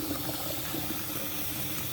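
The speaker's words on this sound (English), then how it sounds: "I'm going to put them in some cold water, kind of wash them" Tap water runs steadily into a sink of cold water while fresh chicken eggs are washed, a constant soft rushing hiss with no talk.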